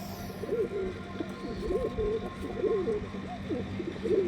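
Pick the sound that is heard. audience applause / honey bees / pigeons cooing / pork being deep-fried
pigeons cooing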